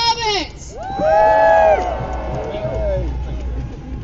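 Around two thousand protesters at a Downing Street rally cheer and whoop for a speaker, the swelling roar cut through by high whistles and shouts and then easing off.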